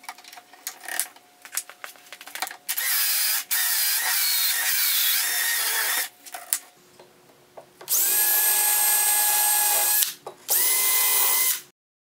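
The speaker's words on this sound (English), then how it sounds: "I use my Craig hinge jig to drill the holes for the concealed Blum hinges that I'll be using" Power drill boring concealed Blum hinge cup holes through a Craig hinge jig into a bathroom vanity door, several loud sustained whining bursts separated by brief pauses and clicks, no talking.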